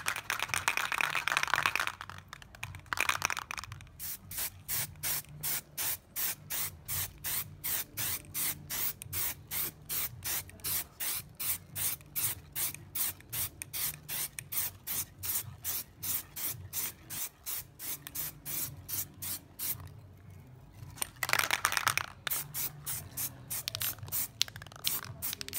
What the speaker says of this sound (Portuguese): Agora eu vou dar uma lixada e pintar com spray preto fosco.